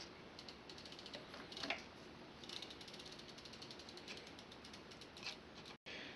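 Ratcheting clicks as a 15mm spanner tightens a greased right-side pedal onto a BMX crank arm, a close, steady run of small metallic clicks with a few louder knocks, no talk.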